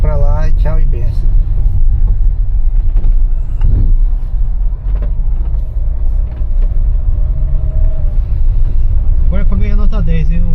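A taxi car engine rumbles loudly and strains as it accelerates over a rough Amazon highway, jolting and clattering throughout, with people talking over it.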